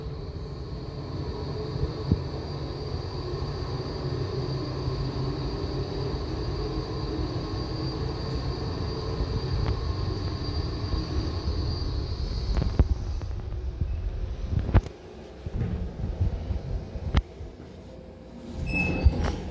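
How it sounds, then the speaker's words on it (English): A 2004 Riam roped hydraulic elevator in a mall in Desenzano del Garda, Italy, runs during a ride with a steady low rumble and a high whine, then slows near the end with a few clicks and thumps. "A ride on the other elevator too."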